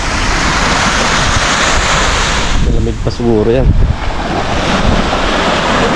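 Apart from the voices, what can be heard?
sea waves on the shore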